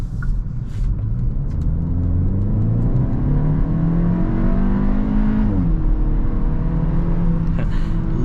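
A loud 2023 Hyundai Elantra N Line engine drones steadily with rising and falling revs at highway speed, a continuous deep rumble with faint pops and crackles from the exhaust.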